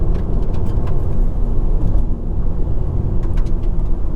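A Hyundai i20 with the iMT clutchless manual gearbox drives along, its engine and road noise a steady, loud rumble from inside the car with no talking.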